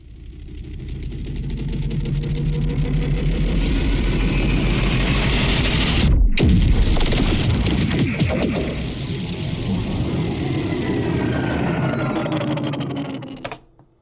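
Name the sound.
post-processed cut-up vocoder impact sound effect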